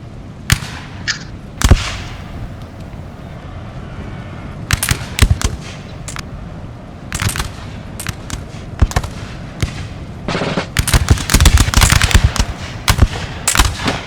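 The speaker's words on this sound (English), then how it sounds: "It's a firing squad." Musket volleys from a firing squad in the game Napoleon: Total War come as repeated sharp cracks, some single and some in dense ragged bursts, loud and close over a low battlefield murmur.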